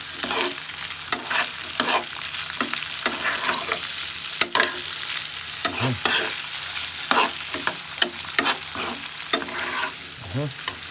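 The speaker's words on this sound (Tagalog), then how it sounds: "Then, haluin na." Potato and seasonings being stirred in a frying pan with a steady sizzle, a spoon or spatula scraping and clanking in irregular strokes throughout, close and fairly loud, with no talking.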